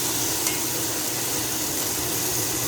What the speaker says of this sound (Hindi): अब हम इसके अंदर डाल देंगे जो मेरे पास प्याज थी वो